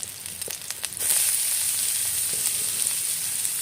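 Grated ginger, onion and garlic drop into hot oil over a village-style clay stove. Faint clatter comes first, then a sudden loud, close sizzle that stays steady.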